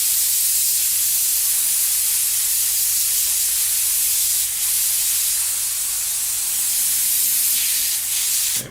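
Airbrush loaded with leftover black Tamiya paint being emptied out, a loud, steady close hiss of spraying air and paint that continues unbroken for several seconds.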